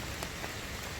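Steady rain falls in misty woods along the Appalachian Trail, a dense, even hiss of drops on leaves and ground with no break, heard close and fairly loud.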